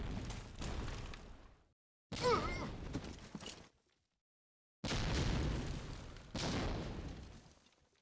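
Grenade blasts in Medal of Honor: Allied Assault multiplayer: several loud booming bursts, each decaying quickly, with short silent gaps between them, close and harsh.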